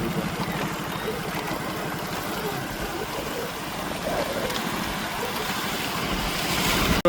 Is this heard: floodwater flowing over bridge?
yes